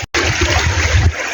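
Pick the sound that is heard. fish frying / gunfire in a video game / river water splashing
river water splashing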